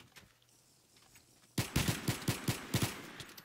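After a quiet moment, a burst of rapid gunfire erupts in a modded Minecraft Survival Games match, about eight sharp evenly spaced shots, loud and close.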